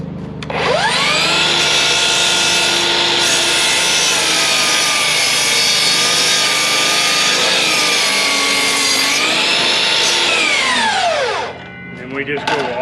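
A power saw set to 30 degrees bites into a thick 6x6 wooden post, the motor spinning up to a loud, steady whining cut that holds for about ten seconds before winding down.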